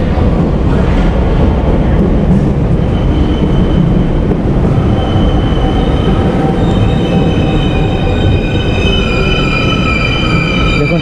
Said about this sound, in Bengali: আমার ট্রেন এসে গেছে